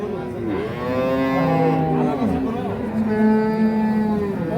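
A young two-tooth Holstein Friesian dairy cow gives loud, close, drawn-out moos that rise and fall, with voices faintly in the background.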